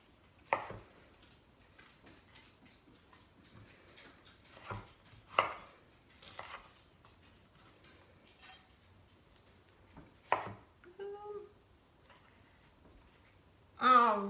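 A knife chops peppers on a cutting board in a home kitchen, giving scattered faint taps with pauses between them and a few louder knocks, close by.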